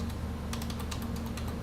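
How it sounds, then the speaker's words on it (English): Quick clicks of typing on a computer keyboard, a short burst of rapid, fairly close keystrokes over a low steady hum. "as I'm typing to this lady"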